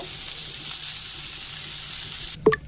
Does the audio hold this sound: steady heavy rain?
no